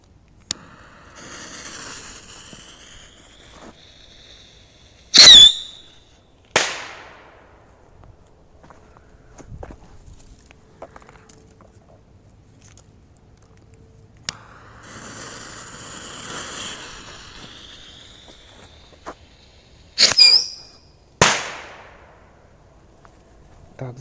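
Whistling firecrackers shriek and then burst with sharp, loud bangs, two distinct bursts spaced well apart, each preceded by a rising hiss and followed by echoing cracks, with quiet stretches and faint talk between.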